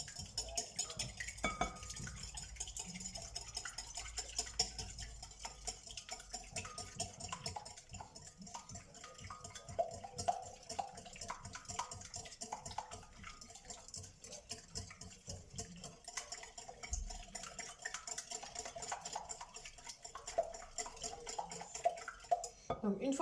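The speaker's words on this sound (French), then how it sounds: "Je vais fouetter mes 3 œufs." Three eggs being whisked in a bowl for a caramelized apple cake, a steady run of light clinks and taps of the whisk against the bowl that continues without pause and stays close.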